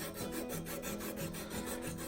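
Sandpaper wrapped around a round lathe punch tool rubs back and forth along spiral-carved wood by hand, a steady near rasping with rhythmic strokes and no talk.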